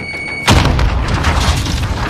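Grenade explosion in a Call of Duty video game, a sudden loud boom that rolls into a long, dense rumbling tail after a brief quiet lead-in with a steady tone.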